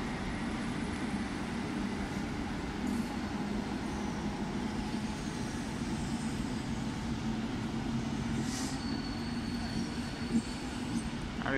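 A train pulling out of Liverpool Lime Street station, a steady loud rumble of rail and engine noise throughout with faint station ambience and brief higher squeals over the top.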